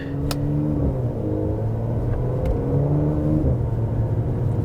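A Mercedes SL55 AMG engine rumbles loudly and continuously through its exhaust, the deep drone rising and falling in pitch as it revs.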